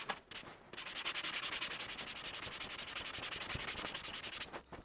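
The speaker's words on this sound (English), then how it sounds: "I really like these sanding sponges." Steady rhythmic rubbing of a sanding sponge, quick back-and-forth strokes close up, continuing for several seconds.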